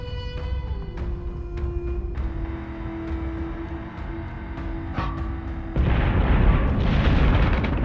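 Warship guns fire in the space combat game Battlestar Galactica Deadlock, heavy booming shots and bursts over a tonal engine hum, building to a loud sustained barrage of rumbling blasts near the end.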